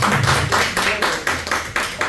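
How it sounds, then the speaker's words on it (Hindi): Church congregation clapping for Jesus Christ, a loud, steady run of rhythmic claps filling the hall at an even beat, with no voices over it. "Shall we once again clap for Jesus Christ?"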